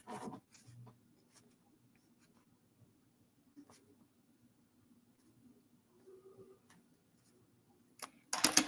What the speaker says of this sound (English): I'm writing my own rhymes.